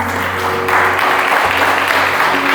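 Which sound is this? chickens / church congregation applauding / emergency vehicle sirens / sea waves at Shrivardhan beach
church congregation applauding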